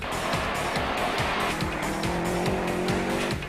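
A 2003 Subaru WRX rally car driven flat out on a Targa Tasmania tarmac stage, engine roaring loud and close with rising revs, gear changes and tyre squeal throughout, no voices.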